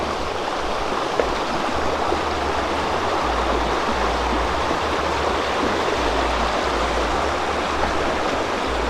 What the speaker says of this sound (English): this stream is very small